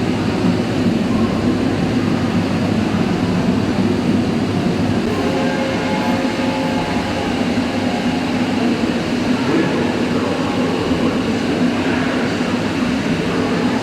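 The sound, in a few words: old electric tram running, from a museum film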